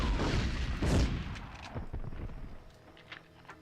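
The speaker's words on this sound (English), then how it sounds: "Stop throwing grenades at me!" Grenade explosions and gunfire in the video game Medal of Honor: a loud heavy boom and rumble up front, then fading crackle and scattered sharper shots trailing off.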